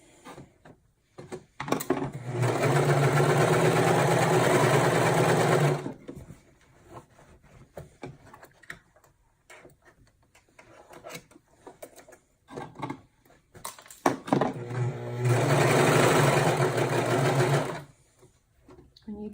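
Sewing machine stitching fabric for a car trash bag, two sustained runs of a few seconds each separated by quiet handling noises, close and loud.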